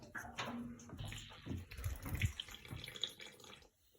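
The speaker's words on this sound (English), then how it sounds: "I'm going to open it up, and then all the water's going to shoot out of there" Water gushes and splutters in irregular bursts as it spurts from a radiator bleed valve during draining, close up, fading out near the end.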